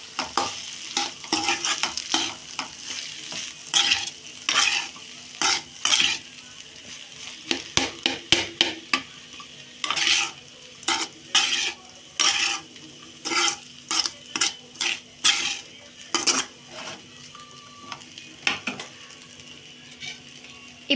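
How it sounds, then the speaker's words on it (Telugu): Cooked rice being stirred with salt in a pan, repeated bursts of spatula scraping and tossing in an uneven rhythm over a faint sizzle, close and without talk. "రైస్ వేసుకున్న తర్వాత తగినంత ఉప్పు, సాల్ట్, ఫ్లక్కర్ పట్టుకొని మంచిగా మిక్స్ అయ్యేటట్టు కలుపుకోండి"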